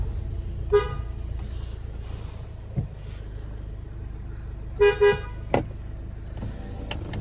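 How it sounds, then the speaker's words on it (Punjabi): A car horn toots in short bursts outdoors, one beep early, then a quick double toot and another single beep later, over a low idling engine rumble with no talking. "ਹੌਰਨਾਂ ਨੂੰ ਪਛਾਣ ਨਹੀਂ ਆਈ ਵੀ ਹੌਰਨ ਤਾਂ ਹੋਰ ਆ"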